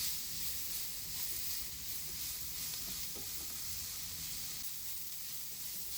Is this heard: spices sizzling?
yes